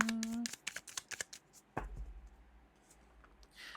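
Tarot cards being shuffled by hand, a quick series of soft riffling flicks and taps up close, followed by a quiet pause and faint rustling.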